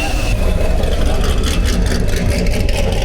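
A Koenigsegg Jesko hypercar rumbles as it drives away from a Cars & Coffee meet, a loud, continuous low engine drone with crowd noise and voices mixed in around it.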